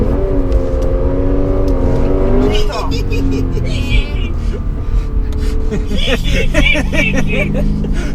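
A Lexus RC F engine drones and shifts pitch as it revs and slides its rear through a hairpin turn, with tyre noise and people talking excitedly over it.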